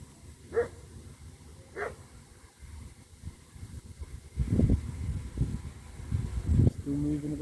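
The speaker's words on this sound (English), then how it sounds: "That dog barking." A dog barks somewhere off in the distance by a lake, two short faint barks set against wind and outdoor rumble, with a voice speaking later on.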